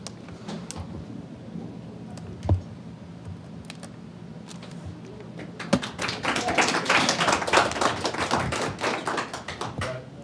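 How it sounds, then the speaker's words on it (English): Audience applause at a MySQL community meetup after a talk: a quiet room with one soft thump, then a burst of many hands clapping that swells and continues steadily to the end. "were we clapping Eric?"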